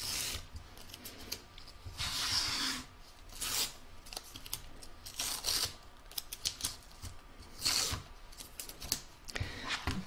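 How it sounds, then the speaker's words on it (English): Tape is peeled and pulled off a quilted fabric placemat, giving close, dry ripping and rasping strips repeated every second or two, with small crinkles and rubs of fabric and paper between them. "So I'm just going to remove all the tape that I've got holding everything in place."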